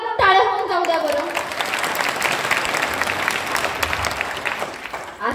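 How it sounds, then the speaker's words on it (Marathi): Audience applause at a Shivaji Jayanti lecture in Dhangarwadi village, bursting loudly at the start then settling into steady, dense clapping throughout, with children's voices mixed in. "त्यासाठी राजांसाठी त्यांच्या मावळ्यांसाठी एकदा जोरदार टाळ्या होऊन जाऊ द्या बरं"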